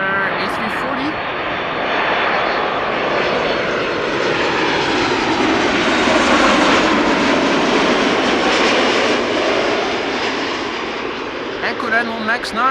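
Boeing 737 Max 9 jet arriving from Rhodes at Amsterdam Schiphol, a broad roaring engine rush swelling to a peak and slowly fading as it passes, loud and sustained throughout.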